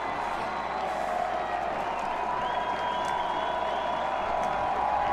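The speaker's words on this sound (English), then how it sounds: "The crowd cheering them on here at Bowers, 3rd and 12." Football stadium crowd at an FCS college playoff game between North Dakota State and another team, a continuous broad roar of cheering and applause at a distance, steady throughout with a faint whistle tone rising partway.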